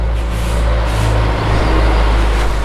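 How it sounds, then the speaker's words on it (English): Heavy road traffic with buses and trucks rumbling past close by on the Isle of Wicht route near East Cowes, a loud steady low engine drone with a brief air-brake hiss and swelling passes, no talk. "So we're just going to wait for this traffic."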